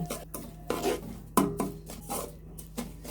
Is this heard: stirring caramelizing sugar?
yes